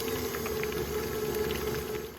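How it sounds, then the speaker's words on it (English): Cream being whisked in a bowl has separated into butter and buttermilk, giving a continuous wet sloshing and churning, steady and close for its whole length. "Just keep going until you start to hear kind of like a sloshing sound"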